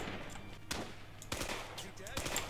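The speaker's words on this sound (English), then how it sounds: "Fucking machine gun." Machine gun fire in a Rising Storm battle on Peleliu comes as several sharp, loud bursts at irregular intervals, with shouting voices around them.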